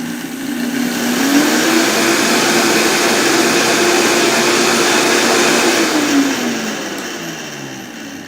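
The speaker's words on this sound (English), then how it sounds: "you put it in the blender, and you blend it super fine" A kitchen blender grinds panko into fine breadcrumb powder, a loud, sustained whirring roar that spins up, holds steady for several seconds, then winds down alone.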